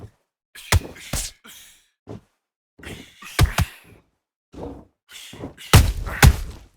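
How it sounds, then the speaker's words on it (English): Boxing punches land in the video game Undisputed as a string of sharp, thudding impacts, some in quick doubles, spread irregularly across the clip with short breathy grunts between them. "Well done with that counter shot."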